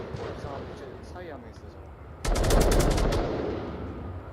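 Rapid automatic gunfire bursts out loudly in the Onward VR shooter match, a dense rattling volley lasting about a second and then trailing off, while a caster talks over the game throughout.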